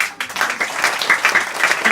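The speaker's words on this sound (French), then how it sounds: "le public peut t'applaudir" Audience applause at a hypnosis show at a campsite, a dense, steady wash of many hands clapping close by for about two seconds with no talking.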